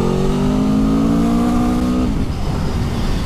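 A new Aprilia Tuono V4 motorcycle engine revs up loudly with a rising harmonic whine close to the rider, then drops off as the throttle closes.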